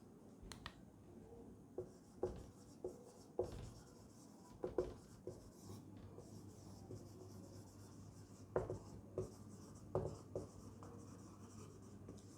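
An equation for a Maxwell's equations derivation is written out by hand: quiet, irregular scratching strokes with sharp taps, close up in a calm room.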